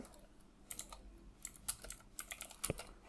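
Keys clatter in irregular bursts of clicks as a git merge commit message is typed on a computer keyboard, close and fairly quiet, with no talking.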